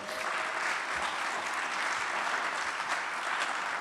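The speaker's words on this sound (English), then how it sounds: "as you clap for Willie" Audience at a CSUDH fall convocation applauds a former university president, a dense, steady wash of many hands clapping that holds evenly loud throughout with no voices rising above it.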